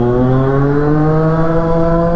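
A motorbike accelerates through a gear, its loud, close engine note climbing steadily in pitch with no break or voices.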